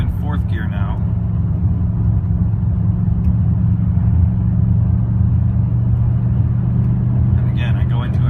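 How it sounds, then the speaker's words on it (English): A GMC Sierra engine drones low and steady from inside the cab while driving in 4th gear on light throttle, a constant rumble with brief voices at the start and end. "I'm just barely touching the gas. I'm in 4th gear."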